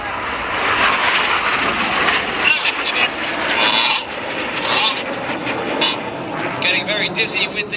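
Red Arrows display jets roar overhead during an air show at Ayr, a loud sustained engine rush that surges and fades, with a commentator talking over it throughout.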